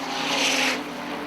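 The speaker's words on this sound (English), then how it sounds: "That car sounds a little bit like a popcorn machine as he enters turn number 3" A 4-cylinder race car at Airborne Speedway in Plattsburgh, New York, runs in trouble as it slows into a turn, its engine popping and sputtering roughly. The noise is steady and fairly loud, with no voices.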